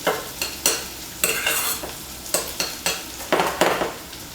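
Chorizo fries over quite high heat in a pan, with a steady sizzle broken by repeated loud scraping stirs about every half second to second, close up and with no talking.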